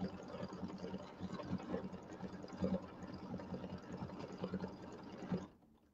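An embroidery machine stitches a placement line on a Christmas quilt block, giving a steady mechanical whir with a rapid needle-beat rhythm, close and moderately loud, running continuously before cutting off near the end.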